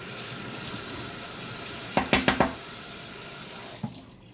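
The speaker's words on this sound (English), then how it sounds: "Let me rinse this off." Kitchen faucet water pours loudly into a sink while something is rinsed off, with a quick run of four clattering knocks midway before the flow cuts off near the end.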